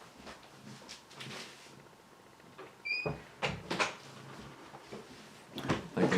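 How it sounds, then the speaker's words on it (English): A door swings shut indoors, with a few soft bumps and knocks and a sharper clunk midway, followed by more light thuds and handling noises. "Let me close the door."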